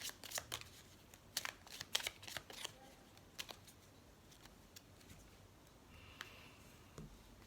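Tarot cards being cut and shuffled close by, with quick papery riffles and snaps in irregular bursts, then sparse soft card taps in a quiet room.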